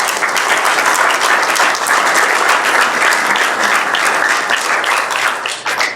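A seated audience at a university biosystems and agricultural engineering event breaks into loud, dense applause that holds steady throughout before tapering slightly at the close.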